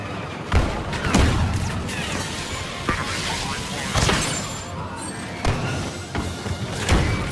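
Grenade blast in the Star Wars Battlefront 2 beta, a series of heavy thuds and booming impacts amid ongoing gunfire and battle noise, loud and continuous throughout.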